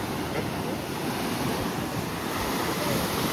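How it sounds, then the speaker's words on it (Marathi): Ocean surf breaks and rushes continuously off the Goa coast during a kayaking outing, a loud broadband wash of waves mixed with strong wind buffeting the microphone. "मोठी आता तुम्ही लाट बघा"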